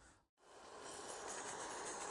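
A narrow gauge garden model train pulls away outdoors after a brief pause, its rolling rumble and hiss swelling quickly and then holding steady and fairly loud.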